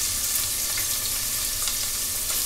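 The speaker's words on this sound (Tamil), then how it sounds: "வெங்காயம் வந்து நல்லா கலர் சேஞ்ச் ஆகிற வரைக்கும் வதக்கிக்கோங்க." Onions saute with ginger garlic paste in a pan, giving an even, continuous frying sizzle at moderate level with no stirring strokes standing out.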